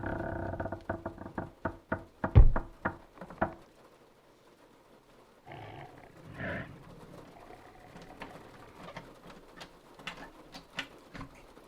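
Something on a porch knocks at a door and tries it: a run of sharp, loud knocks and rattles comes first, then a quieter stretch with soft creaks and a cooing sound in an eerie setting.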